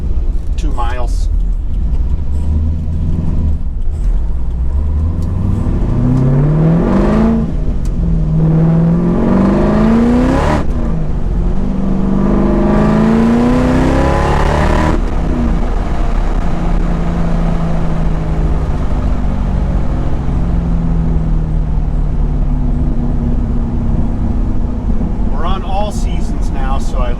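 A C5/C6 Corvette circles a roughly two-mile test loop on a cold day, its engine note rising and falling through repeated revs and gear changes, loud and close throughout with no voices heard.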